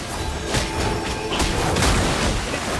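Crashing, booming destruction of a turret in a League of Legends match, with several broad impact bursts and rumbling debris over a steady game soundscape, loud and close.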